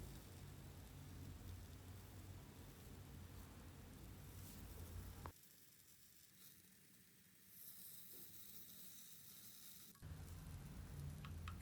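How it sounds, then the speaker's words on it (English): Paneer cubes sizzling in a pan as they are sauteed for a smoky Maharashtrian thecha starter, a soft crackling hiss that cuts out midway, returns faintly, then resumes alone near the end. "make sure to saute the paneer cubes from the sides as well"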